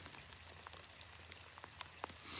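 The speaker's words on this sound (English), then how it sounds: "Pretty rainy, no wind" Steady rain on a calm, windless morning at a reservoir during trout fishing, a soft continuous patter with scattered nearby drops and no talking.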